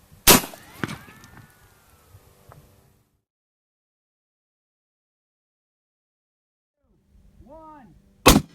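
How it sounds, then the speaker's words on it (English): Two 12 gauge shotguns firing slugs outdoors: a sharp, loud shot at the start followed by a second blast and fading echoes, then silence, soft voices, and another sharp bang near the end. "You can see where this shotgun fired first, then this one."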